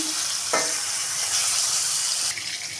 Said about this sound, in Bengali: আমার মাছগুলো ভাজা হয়ে গেছে